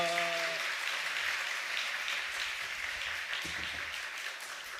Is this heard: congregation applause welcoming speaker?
yes